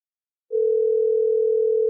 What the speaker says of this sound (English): It's dialing her again.